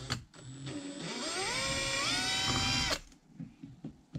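A cordless drill-driver whirs up to speed and holds a steady rising whine for about two seconds before stopping abruptly, close and loud, with small handling knocks after.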